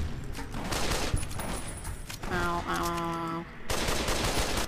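Gunfire in Fallout: New Vegas comes as rapid bursts of shots, loud and close, interrupted by a tonal game effect, with a brief pained voice in between.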